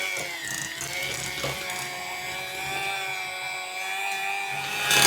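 Electric hand mixer whirring steadily as it beats unsalted butter for a plum cake, a continuous high mechanical whine with a slight rise at the end, close by and alone.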